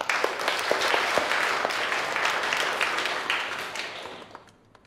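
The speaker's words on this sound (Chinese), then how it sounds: "大家鼓掌。" Students in a classroom applaud together, a loud, crowded burst of clapping that holds steady and then fades out toward the end.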